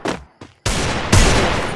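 Gunfire rings out in a shooter video game, with a couple of quick shots followed by a loud sustained burst of automatic fire, close and alone.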